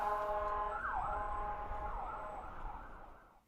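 An ambulance siren wails with rising and falling tones, steady and fairly loud for a few seconds before fading off at the end.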